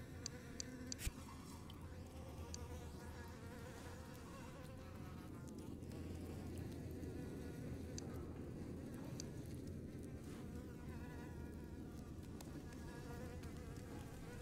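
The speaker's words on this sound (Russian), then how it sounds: "Мухи летают, там что-то есть." A cluster of flies drones continuously in the prison sewers of Ghost of a Tale, a steady close buzzing over low ambient rumble with a few small clicks near the start, no voices.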